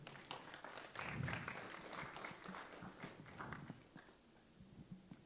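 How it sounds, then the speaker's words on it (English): Applause from an audience at a cybersecurity tech hackathon for a presenter, a dense patter of clapping hands lasting several seconds and thinning toward the end. "Give her a round of applause."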